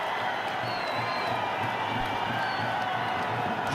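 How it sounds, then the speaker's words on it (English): A cricket crowd in Sharjah stands and applauds during an Afghanistan versus South Africa one-day international, making dense, steady clapping and cheering that carries at a distance. "they're on their feet. They're applauding their team"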